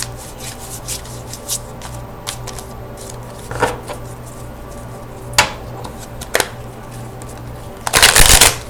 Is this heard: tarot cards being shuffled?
yes